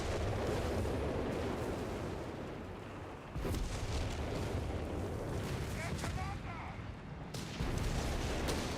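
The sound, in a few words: artillery barrage explosions in Company of Heroes 3 video game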